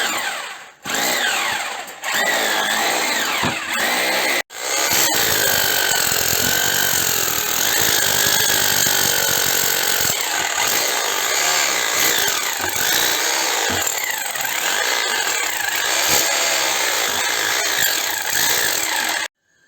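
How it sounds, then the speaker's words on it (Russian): A rotary hammer fitted with a spade chisel chips thick clay plaster off a fireplace wall, a loud, close, continuous hammering roar broken by two brief pauses near the start. "я буду использовать перфоратор с такой лопаткой"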